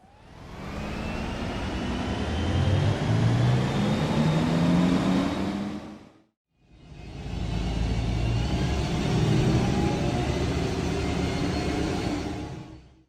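A city bus engine from a bus simulation game, modeled on a real bus, rumbles and revs steadily in two long passes split by a short silent gap, loud and mid-pitched with no talk.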